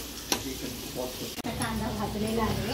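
Onion fries in oil with bay leaves in a home kitchen pan, making a close, steady sizzle broken by a sharp utensil knock and scrape, with voices talking faintly underneath.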